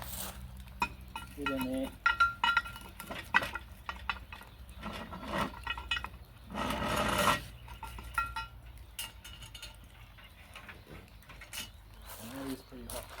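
Metal hook scraping and clanking against a cast-iron Dutch oven lid as it is turned over a campfire, with irregular close scrapes and rattles, a brief voice speaking now and then.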